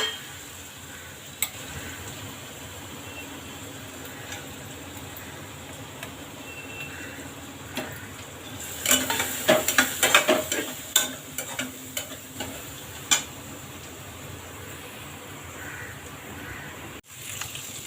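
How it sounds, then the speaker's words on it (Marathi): Ivy gourd sautéing in a pan with green chili and turmeric, a low steady sizzle broken by a cluster of spatula scrapes and clinks midway, then a few scattered knocks. "हे बघा, आता हे छान आपण परतून घेऊ"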